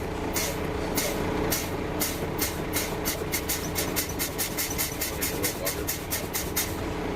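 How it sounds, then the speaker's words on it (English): A truck's air brakes are fanned by pumping the pedal during a pre-trip inspection, producing a steady string of sharp, rhythmic air bursts over a loud running engine. "I'm going to step on and off the brake until both needles get down around 90"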